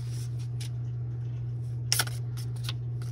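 Paper strips being curled with scissors give a few brief scraping swipes, with one sharper rasp in the middle, over a steady low electrical hum.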